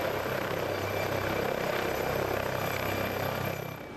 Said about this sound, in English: Pilot Chris is dropping Helimed 99 into a clearing in the woods.